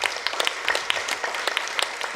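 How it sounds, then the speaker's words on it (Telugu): An audience at a health workshop claps for a woman, giving a fairly faint, steady patter of many hands that carries on throughout. "ఆమెకు గట్టిగా చప్పట్లు కొడదాం."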